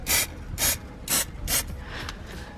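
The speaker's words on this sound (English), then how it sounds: "So yeah, very simply, just gonna spray this on." Aerosol underbody paint sealant sprayed onto the underside of a Ford Focus RS in four short hissing bursts, about half a second apart, followed by fainter trailing spray, close and with no talk.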